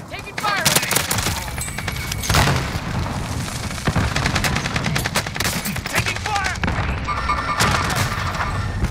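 Video game gunfire rattles in dense, repeated bursts and sharp shots, with booming impacts mixed in, loud and close throughout, while players talk faintly underneath.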